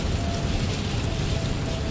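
Steady heavy rain drumming on an airliner in Microsoft Flight Simulator 2020, a dense, even hiss and patter filling the whole stretch without breaks, fairly loud and with no voices.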